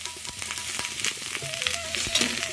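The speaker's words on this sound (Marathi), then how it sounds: "एक चमचा तेल टाकल्यानंतर आपण यामध्ये उभा कटिंग केलेला कांदा भाजून घेत आहोत" Vertically sliced onion roasting in a spoonful of oil on a griddle (tava), a steady close sizzle with light crackles and occasional stirring scrapes.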